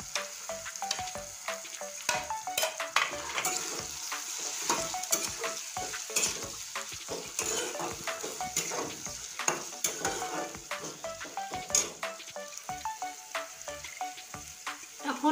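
Spices and chopped tomato sautéing together in a pan for a jackfruit and potato curry, a steady close sizzle with frequent scraping stirs of a spoon throughout, no talking.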